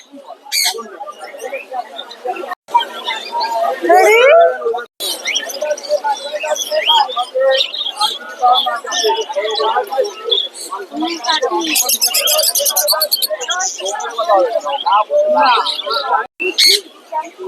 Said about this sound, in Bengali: আর পাখির আওয়াজগুলো